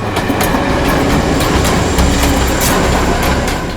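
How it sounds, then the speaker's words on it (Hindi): A train rumbles past close by, with loud, steady rolling noise and rhythmic clacking of wheels over rail joints. "ये कौन सी ट्रेन थी? लोकल ट्रेन या मेल गाड़ी की आवाज?"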